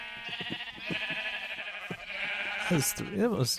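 Sheep bleating in NeoCraft, a Minecraft-style video game, with a few short bleats near the end rising over a busy layer of game sounds and a person talking.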